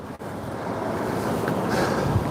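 Steady roaring wind buffets the microphone near an old concrete bridge in Berwick, a broad continuous rush with low rumbling gusts and no voices.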